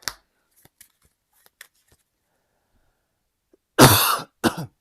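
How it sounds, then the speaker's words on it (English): A person coughs twice: a harsh, loud cough and then a shorter second one, after near silence with a few faint ticks and taps at a table during a card game. "Sorry, I'm not sick, but I have this cough."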